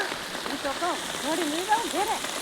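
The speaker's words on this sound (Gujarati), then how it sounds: "ભર ઉનાળે વરસાદ આવ્યો ભાઈ." Out-of-season rain falls outdoors on a farm, making a steady, even hiss throughout while people talk over it.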